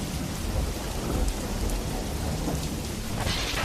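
Heavy rain pours steadily in a dense hiss while thunder rumbles low and continuous beneath it, setting the mood of a stormy night at a haunted house in a horror story.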